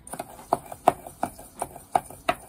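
Spoon scraping and tapping against a bowl while stirring a no-bake pumpkin pie crust mix, giving about seven evenly spaced knocks with a soft rustle between them, close and fairly quiet.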